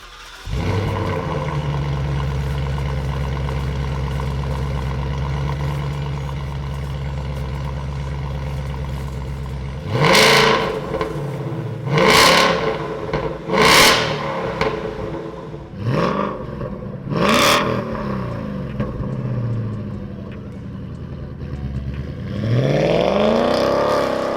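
A 2018 Ford Mustang GT with a Borla Sport cat-back exhaust and quad tips idles with a deep burble, then barks through several sharp revs in quick succession, a pause, and a final longer climb, loud and close.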